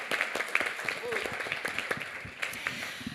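A conference audience gives scattered, fairly close applause in uneven claps, with voices mixed in underneath.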